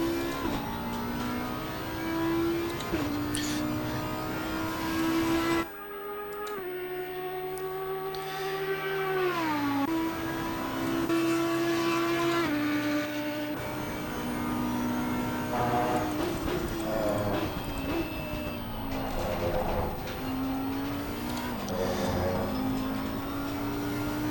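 A race car in a sim racing video game laps the track, its engine whining and revving steadily up and down through gear changes, loud and continuous with no talking.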